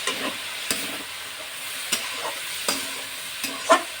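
Banana flower curry frying in a pan after a ground spice paste and a splash of water go in, a steady close sizzle broken by several sharp scraping stirs at irregular intervals.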